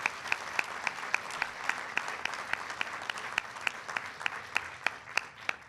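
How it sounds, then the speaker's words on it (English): Audience applause at a White House bill signing for a child nutrition act, steady sustained clapping with sharp individual claps standing out, moderately distant and unbroken by talk. "Give them a big round of applause."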